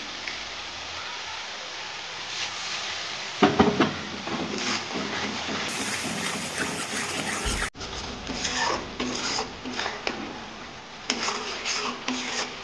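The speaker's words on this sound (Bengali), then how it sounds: "মশলাটাকে আমি ভালোভাবে কষাবো।" Spice paste of turmeric, cumin and coriander powder frying in oil for a tel koi fish curry, a steady broadband sizzle with scraping and stirring bursts, fairly close, no talk.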